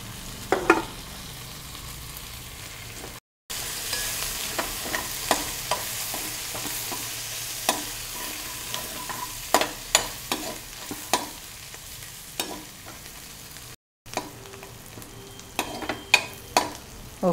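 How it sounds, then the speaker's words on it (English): Chopped coriander fries with onions in a pan for a coconut milk chicken curry, a steady low sizzle broken by repeated sharp spatula scrapes and taps, with two brief silent gaps. "Put the chopped coriander and fry it with it."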